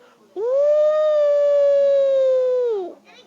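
A person's voice imitates a wolf howling: one loud, sustained howl that rises quickly, holds a steady pitch for over two seconds, then drops away at the end, heard alone with no talk.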